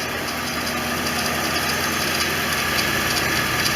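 A 1989 Corvette Roadster engine idles steadily with its cooling fan running, giving a loud, constant drone and whir with no break and no voices.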